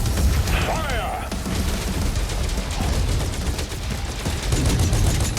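Rapid gunfire from a mech in a video game, continuous loud bursts with booming impacts throughout, a brief whistling sweep early on, dense and close.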